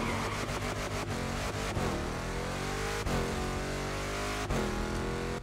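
A car engine in a racing video game, fitted with an American V8 in an Alfa Romeo Giulia, revs steadily and loudly throughout, with rising pitch sweeps and brief shift breaks, alone without talk.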